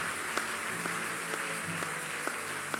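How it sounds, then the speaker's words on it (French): An audience at a French-language church gathering applauds, a dense, steady wash of clapping with a few sharper individual claps standing out. "On acclame très fort pour son ministère."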